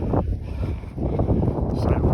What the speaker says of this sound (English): Sorry about the wind, but it's the South Downs way and it's always windy